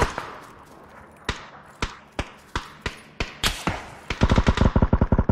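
Video game gunfire: a string of sharp single shots about every half second, ending in a rapid automatic burst, loud and close with no speech over it.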